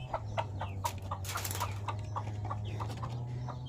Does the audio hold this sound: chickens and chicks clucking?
yes